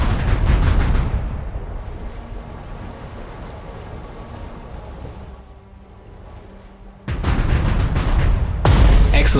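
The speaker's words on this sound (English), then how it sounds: "Fire 2 times at the enemy bomber." Anti-aircraft artillery in a WWII-era strategy game fires at an enemy bomber: a rumbling barrage fades, then two sharp, loud blasts hit in quick succession near the end.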